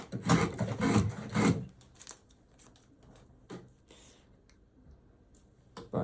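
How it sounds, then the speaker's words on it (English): A modern Stanley 151 spokeshave taking a shaving from wood, with a few dry, rasping strokes packed into the first second and a half, then faint, scattered scrapes and taps. "I mean, it takes a shaving,"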